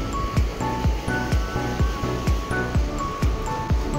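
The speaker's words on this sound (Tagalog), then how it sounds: "Taas na ng alon." Big, high sea waves roll and break at sea during a fishing trip, a steady wash of surf broken by repeated low thumps about every half second, close and moderately loud with no talk.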